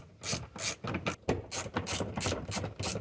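Rapid ratchet clicks come in short bursts while a 10mm bolt is backed out of a Chevy Silverado door panel during a power window switch install, the strokes close and steady with brief pauses between them.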